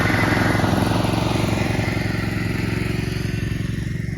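Lawn mower cutting grass outdoors before the snow arrives, its engine droning steadily and loudly nearby for the whole stretch, fading slightly toward the end.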